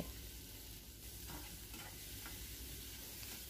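Onion, chopped tomato and a few garlic cloves being stirred together in a frying pan, a steady soft sizzle with occasional scraping sweeps of the spoon, close and fairly quiet.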